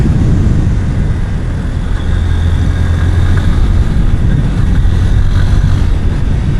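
A Honda X Blade 160cc motorcycle rides through continuous corners, a loud, steady engine drone mixed with heavy wind rush and no break in the noise.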